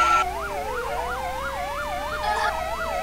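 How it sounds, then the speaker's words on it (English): A loud wailing fire engine siren sweeping up and down in fast regular cycles, the truck close by over a low engine rumble. "lay on the siren"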